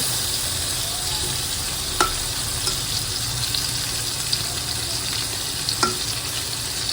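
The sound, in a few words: fish frying in a pan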